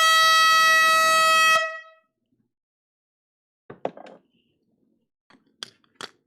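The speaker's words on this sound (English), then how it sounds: "Air horns on the way." At a live vinyl record sale, one loud, sustained compressed-air horn blast holds for about a second and a half and then cuts off, followed by a few faint clicks and knocks.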